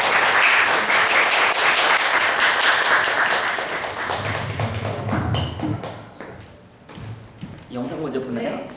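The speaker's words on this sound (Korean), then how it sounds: "나오실 때 환영의 박수 해주셨으면 좋겠습니다." A church congregation welcomes a missionary from Tanzania with a burst of rapid, dense clapping that fades after several seconds, followed by someone speaking and lighter sounds.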